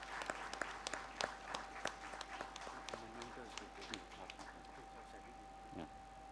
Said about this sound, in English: Kindly give him a big round of applause.